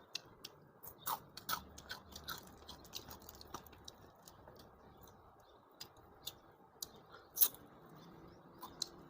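Crispy fried tilapia eaten with a chili dip, close-up crunchy bites and chewing in a quiet room, with irregular soft crackles and clicks spread across the clip.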